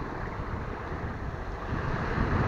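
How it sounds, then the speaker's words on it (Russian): Sea waves wash steadily onto the shore at Berdyansk, a continuous rushing roar mixed with buffeting wind noise on the microphone and swelling slightly louder toward the end. "Волны вообще уже хотят меня смыть."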